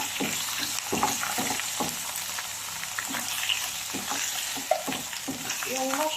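Mushrooms hit a hot frying pan already holding onion and garlic, setting off a steady, close sizzle with repeated scraping stirs throughout.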